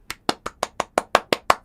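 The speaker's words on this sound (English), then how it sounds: "Everybody applaud." Participants in a live online Q&A session clapping for a contest winner: nine sharp, evenly spaced claps from a single nearby pair of hands, alone with no voices.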